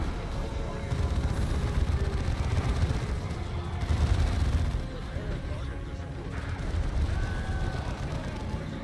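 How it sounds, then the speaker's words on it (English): Orbital bombardment in Dawn of War 2, a chaotic barrage of heavy booms, blasts and gunfire rumbling through a loud battle, with people talking over the noise. "Orbital bombardment, motherfucker!"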